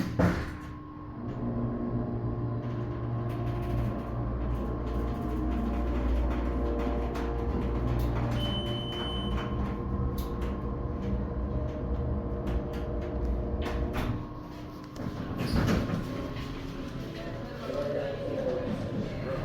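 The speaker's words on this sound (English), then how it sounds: "Sounds like it had a pretty good motor. Telescoping hydraulic." MEI telescoping hydraulic elevator at a ZARA store in Herald Square, NYC, its motor running as a steady low hum with rattles and clunks, heard under someone talking nearby.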